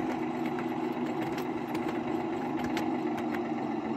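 A 5-inch gauge Neptune 0-6-0 miniature locomotive runs along portable track with a steady close mechanical hum and rattle, an even motor drone with faint clicks over it.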